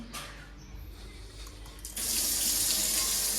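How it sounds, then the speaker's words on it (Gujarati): Water gushes from a tap, at first a softer steady flow that suddenly strengthens into a louder, broader rush halfway through, heard close with no talking. "તમે ચેક કરી લ્યો નળમાંથી પાણી જાય છે કે નહીં."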